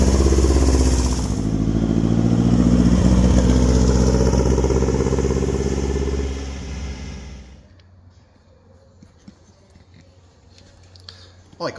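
A show car, the 'Gonzoline Special', runs with a loud, steady engine rumble as it drives, then the engine shuts off partway through, leaving near-silence with faint clicks and ticks.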